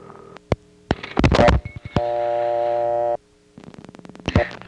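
Electromechanical step-by-step telephone exchange switching, recorded 1974 to 1980: a burst of dialing clicks and relay chatter, then a steady multi-tone held for about a second, then more rapid clicks and pulses, loud and close with no talk.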